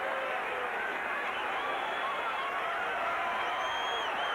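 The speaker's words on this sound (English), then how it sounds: "Crowd on their feet here." A boxing arena crowd roars and cheers continuously on its feet, a dense sustained wash of voices with scattered whoops, loud and unbroken throughout.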